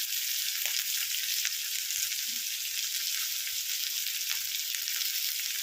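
Sliced onions fry steadily in a little oil for an egg curry, a constant close hiss of sizzling with faint scraping underneath and no voices.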